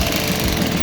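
Motorcycle engine running at a Japanese bike festival, a loud steady rumbling drone filling the short stretch without break.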